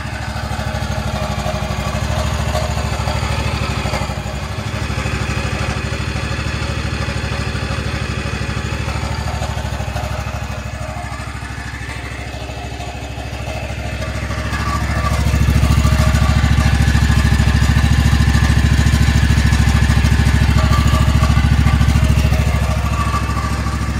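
John Deere 777 zero turn mower engine running after an oil change, a steady loud close idle that dips briefly and then rises to a stronger, fuller drone partway through, with no talk over it.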